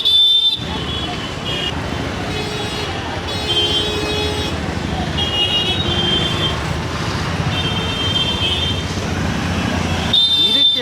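Car horns honk repeatedly, loud and close, over a constant roar of road traffic and engines.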